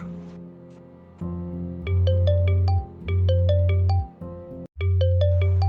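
A phone ringtone plays a repeating electronic melody of bright chiming notes over a deep pulsing bass, looping several times with short pauses.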